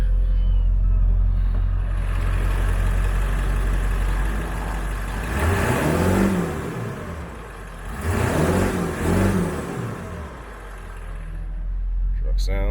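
Exhaust of a 1999 Ford F350 4x4 with a 7.3 Powerstroke turbo diesel, a deep steady rumble at idle with two rising-and-falling revs in the middle, the second a double blip, recorded close outdoors.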